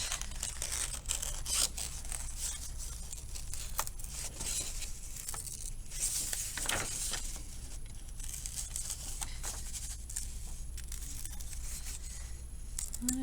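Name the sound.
cutting out a paper circle with scissors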